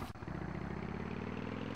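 A quad bike engine in the video game Tomb Raider III, set at the River Ganges, revs into a steady, close, buzzing drone that holds for under two seconds without a break.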